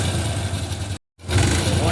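A Hero Honda motorcycle engine with a faulty noise, running in a steady loud rumble close to the mic, briefly cut out for a moment before resuming.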